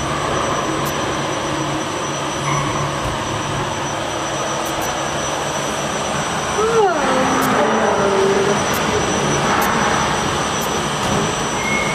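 Steady, loud aircraft engine roar during takeoff that swells slightly partway through, with people talking over it.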